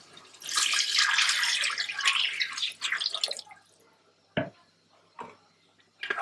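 Water is poured into a pot while cooking pulao, a rushing splashy pour lasting a few seconds, followed by several distinct, separate drips and small splashes in a quiet kitchen.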